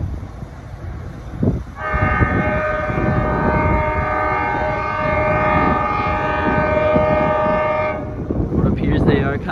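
A B&P freight train draws closer, its horn sounding a long steady multi-tone chord for several seconds over rumbling engine noise, loud and fairly near before fading off.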